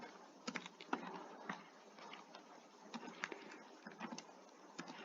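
Computer keyboard typing C code, an irregular run of soft, quick key clicks with occasional sharper taps, steady and fairly quiet throughout.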